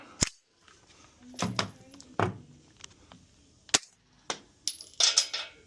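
Suppressed 5.56 rifle shots fired through a Ridgeback Rhino suppressor: about six sharp, dry cracks at irregular intervals, each followed by a brief tail, with quiet gaps between them.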